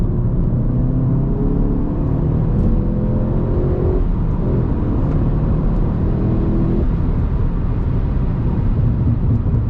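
An APR Stage 1 tuned Golf GTI Mk 7.5 drives and accelerates, its engine droning loudly inside the cabin with rising pitch through gear changes, over steady road noise.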